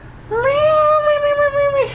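A pet cat gives one clear, drawn-out meow, loud and close, rising then holding steady before trailing off, with no talking over it.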